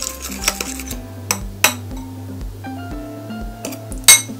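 Utensil stirring Mongolian beef sauce in a bowl, a seasoning mix sweetened and salted with soy and pepper, giving irregular clinks and scrapes of metal against the bowl, close and fairly clear with no talk.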